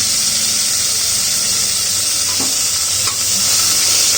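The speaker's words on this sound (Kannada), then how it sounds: "ನೋಡಿ, ಮೆಂತ್ಯ ಸೊಪ್ಪು ಚೆನ್ನಾಗಿ ಫ್ರೈ ಆಗಬೇಕು." About a kilogram of chopped fenugreek leaves sizzle and fry steadily in a pan of spiced oil, with a constant loud hiss and a few soft scraping stirs near the middle, no talking.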